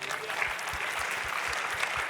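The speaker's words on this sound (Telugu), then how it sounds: "ఒకసారి యేసుక్రీస్తుకి చప్పట్లు కొడదాం" A church congregation claps together in steady, dense applause, loud and sustained throughout with no talking over it.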